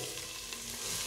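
Onion and vegetables frying in a pan give a short, steady crackling sizzle with no voices.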